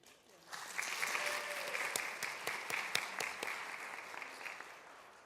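Audience applause welcoming a speaker at a Dallas lawyers' association event, steady clapping from a crowd rising quickly and holding evenly for several seconds before tapering slightly.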